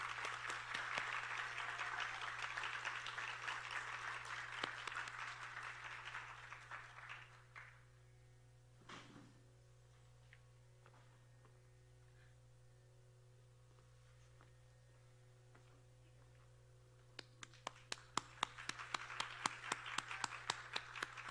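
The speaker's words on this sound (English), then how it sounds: "Can you have another round of applause, please?" Audience applause at a classical Indian dance arangetram concert, a dense wash of clapping for about seven seconds that fades out, then a quiet stretch before scattered claps pick up again and build toward the end.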